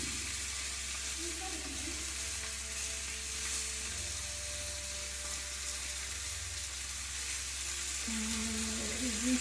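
A T-bone steak sizzles steadily in a hot pan, a constant hissing fry with faint scraping and clinks, heard close and alone.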